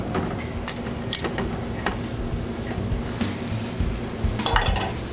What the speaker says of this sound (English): back to the scallops. Should be seared on one side.